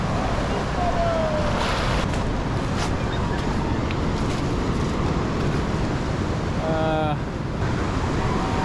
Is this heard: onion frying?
no